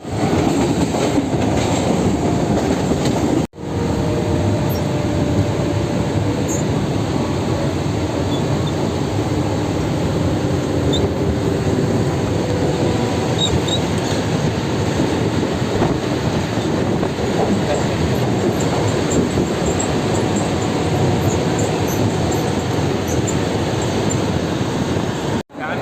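A Mumbai local train heading to Churchgate station, heard from on board as a loud, steady rumble and rattle of wheels on track that lasts the whole time, with no clear speech.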